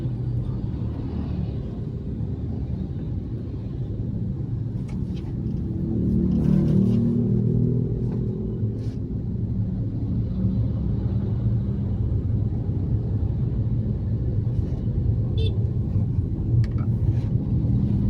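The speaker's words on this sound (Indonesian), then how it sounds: "Di atas LRT lagi lewat, sedang menikung." An LRT train rolls overhead on a curving elevated track above Jakarta traffic, a deep sustained rumble that swells in the middle and then fades into steady road noise.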